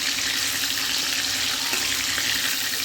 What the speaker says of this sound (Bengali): একদম হালকাভাবে চিংড়ি মাছগুলোকে ভেজে নেব